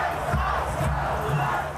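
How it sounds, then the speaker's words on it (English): A large crowd of anti-ICE protesters in downtown Minneapolis, loud massed shouting and chanting voices close by, continuous and roaring. "a massive crowd of anti-ICE protesters flooding downtown Minneapolis"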